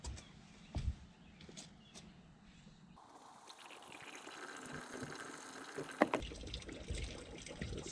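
Liquid is poured into the cooling system of a Sea-Doo GTI SE 130 personal watercraft, a faint gurgling trickle that grows into a steadier pour, with a few soft knocks of handling, no talk.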